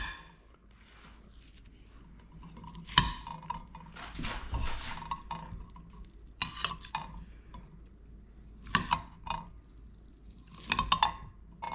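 Harvested taro roots are cut up in a kitchen with scattered knife clicks, board knocks and scraping, some sharp and close, among quieter handling noises.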